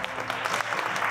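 A stage audience applauds after a samurai warlord troupe's performance at a castle lord's anniversary festival, with dense, steady clapping throughout a short moment.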